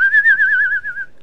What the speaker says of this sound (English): I like to whistle.